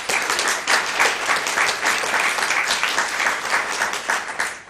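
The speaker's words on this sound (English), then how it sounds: "So I want to give a big round of applause for everybody for taking your seat here this evening." An audience at an evening community event for a women's group in Newry claps steadily, a dense, even round of applause that fades slightly at the end.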